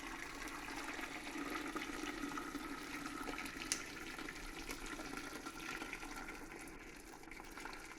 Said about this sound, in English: pour vegetable stock on top of these bones